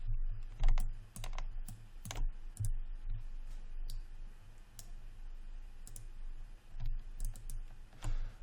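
Scattered computer mouse clicks and keyboard key taps come in irregular bursts during 3D modeling work in Maya, crisp and close against a quiet background.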